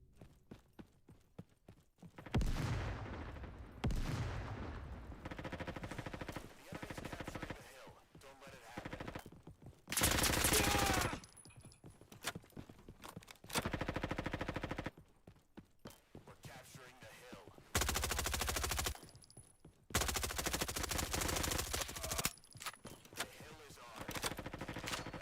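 Hip-fired weapons in the video game Deep Rock Galactic let loose in several loud bursts of rapid automatic fire, separated by quieter stretches of game sound.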